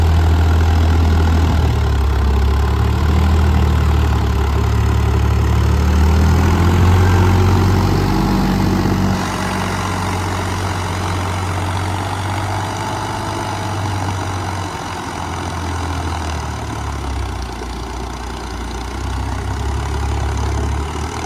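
A tractor engine idles steadily with a deep, continuous throb, its pitch dropping slightly partway through and holding low.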